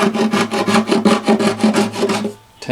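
A scraper rasps lacquer off a classical guitar's wooden bridge in quick rhythmic strokes, about a dozen close, loud scrapes before a brief pause.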